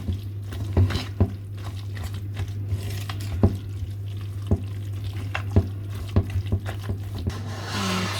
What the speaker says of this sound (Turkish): Ben de şunları kızartmak için tavayı ateşe koyayım.